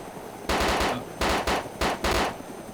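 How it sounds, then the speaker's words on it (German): Automatic gunfire in the video game DayZ rattles out in four rapid, loud bursts separated by short pauses, with no voices. "Ich schieße eh schon vorne eine, vielleicht treffe ich."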